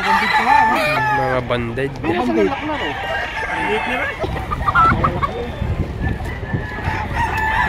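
Chickens and roosters at a busy poultry market in Lipa, Batangas crow and cluck loudly and close by, a long rising crow at the start followed by overlapping clucks, with people talking in the crowd.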